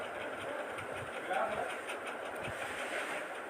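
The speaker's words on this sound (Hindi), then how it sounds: "सिलाई लगाकर तैयार करेंगे।" A sewing machine stitching a Patiala salwar, a steady close mechanical whirr with a fast running rhythm that swells slightly midway, with a voice faintly present.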